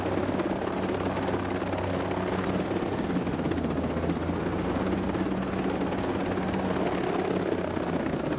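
A helicopter in the video game Tom Clancy's Ghost Recon Breakpoint drones steadily with a dense, continuous rotor and engine roar, near and unbroken throughout, without any talk.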